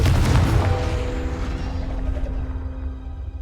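Confringo fire spell explosion in a Harry Potter video game, a loud, close boom with a hard initial burst, then a ringing, rumbling decay with a lingering tonal hum as it fades.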